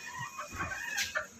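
Chickens clucking in a darkened coop, a few short soft calls close by with a brief higher squawk near the end.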